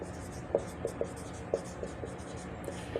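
Chalk or marker tapping and scratching on a board during a Hindi literature lecture, a series of short, distinct strokes spaced irregularly over a low classroom background hum.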